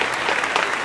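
A short burst of dense crowd applause, steady and fairly loud throughout, with no talk over it.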